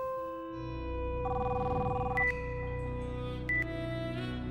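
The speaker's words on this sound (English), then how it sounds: "phone started to ring it rang on and off all day and night, but no one answered it." A telephone rings with a steady electronic tone over a low hum, and two brief higher beeps cut in partway through.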